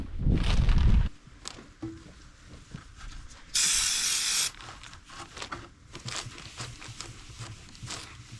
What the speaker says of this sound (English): This brake cleaner worked fantastic.